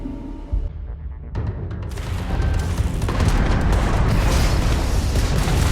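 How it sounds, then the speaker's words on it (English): A homing missile launches at an enemy ship in the space game Starfield, a rising boom that swells into a sustained loud roar of engine and weapon noise lasting several seconds. "we can lock in to fire a homing missile"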